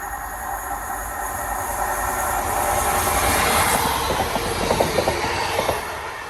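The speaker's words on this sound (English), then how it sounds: "The train coming actually as well." A train rumbles past steadily on the slow line near Batley–Mirfield–Ravensthorpe, England, with a broad roar building and rhythmic clicking of wheels over rail joints toward the end.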